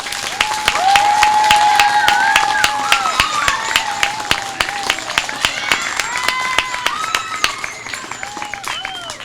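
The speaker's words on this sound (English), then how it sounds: "Please give all of those adults a round of applause." A dense burst of clapping from a sizable crowd at a 4th grade graduation, steady and sustained throughout, with faint voices and cheers mixed in.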